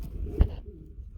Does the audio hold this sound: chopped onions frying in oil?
no